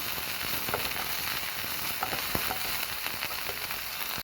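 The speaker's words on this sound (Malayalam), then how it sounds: "ഇനി നമുക്കിതിലേക്ക് അരിഞ്ഞു വെച്ച് ചീര കൊടുക്കാം നന്നായിട്ട് അടക്കി കൊടുക്കാം" Chopped spinach sautéing in a pan over fried chillies, a steady moderate sizzle with a few light stirring taps and scrapes.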